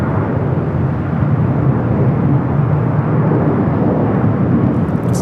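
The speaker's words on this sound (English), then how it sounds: "That's that American Dreamliner we saw arrive here on the north side, heading in to either one of the gates at Tom Bradley" An American Airlines Boeing Dreamliner jet taxis on the north side at Los Angeles International Airport, its engines giving off a loud, steady broadband roar that holds without a break throughout.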